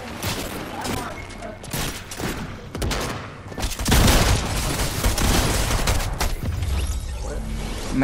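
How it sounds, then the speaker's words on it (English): Gunfire in Fortnite crackles in rapid, dense bursts of shots and thuds, loud and sustained through most of the stretch, mixed with game effects and movement noise. "I was still shooting with my gun out and running at the same time"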